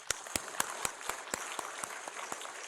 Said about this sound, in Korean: 우리 힘차게 한번 하나님께 영광의 박수 올려드리겠습니다.